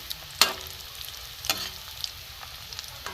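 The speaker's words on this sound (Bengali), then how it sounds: "আমি আস্তে আস্তে এগুলোকে লাল করে ভেজে নেব" Catla fish balls fry gently over low heat in a pan, a steady soft sizzle with two sharp stirring clacks near the start and a fainter knock later, no talking.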